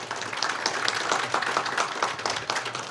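Dense audience applause greeting a professor introduced at a Korean public-sector forum on ESG management, a continuous even roar of many hands clapping with little else present.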